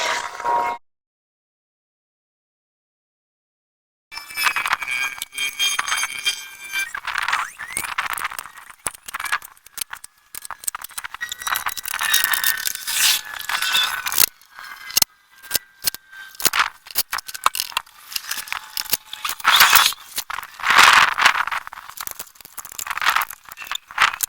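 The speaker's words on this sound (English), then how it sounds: "So I'm going to put the new blower wheel on here and see how it goes." Replacement blower wheel being fitted onto a portable air conditioner, with close clicks, squeaks, scraping and metallic rattling of parts handled in irregular bursts after a brief silence.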